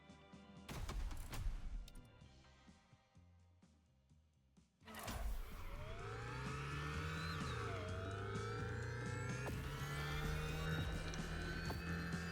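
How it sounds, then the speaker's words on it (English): Nitrous boost on an electric car in The Crew Motorfest racing game: a burst of impacts, then a sustained whooshing, rising whine that holds steady and loud for several seconds with no talking. "I love how the nitros sound effect is like is just because obviously there's no exhaust or anything."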